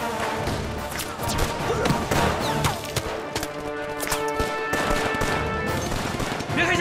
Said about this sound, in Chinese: 敌人火力太猛了